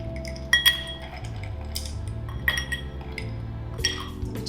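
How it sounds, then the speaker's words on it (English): Ice cubes drop into a rocks glass while making a White Russian, giving several sharp clinks and knocks in separate bursts over a low steady background hum, with no talking. "We're going to put some ice in."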